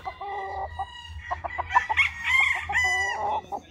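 A young gamecock stag crowing on a game farm in San Pablo, Laguna. One full, loud, close crow with a broken, rising and falling shape, over faint low background noise.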